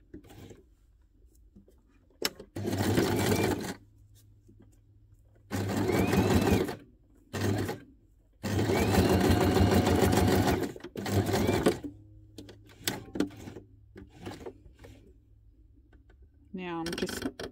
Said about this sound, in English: I'm just going to zigzag straight across the top.